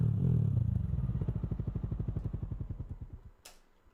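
Processed, edited motorcycle engine sound: a loud low rumble that breaks into a rapid train of evenly spaced chugging pulses, slowing and fading over a few seconds, ending with a brief bright hiss.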